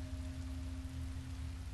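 Rain falls in Minecraft: Story Mode on Xbox, a soft, even hiss of droplets over a low steady hum, continuous and fairly quiet with no voices.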